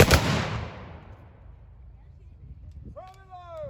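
A loud musket volley at a historical reenactment at Andrew Jackson State Park in Lancaster, South Carolina, one sharp blast with a long echoing decay, followed by a voice calling out briefly at the end.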